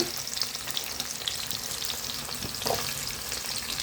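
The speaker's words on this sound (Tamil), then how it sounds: "நல்லா ரெண்டு முழு பூண்டு உரித்து வச்சுக்கிறேன் போட்டுக்கலாம்" Peeled whole garlic cloves fry in oil in a pan for an okra tamarind curry, giving off a dense, bright, continuous sizzle with a few soft stirring clicks; close and unbroken, with nobody talking.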